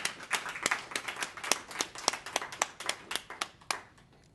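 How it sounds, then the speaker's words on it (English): An audience claps for a woman named Jen at a speech in a Capital Blue Cross store. Distinct, fairly sparse claps repeat in an uneven rhythm at moderate loudness and taper off at the end. "Let's clap for Jen."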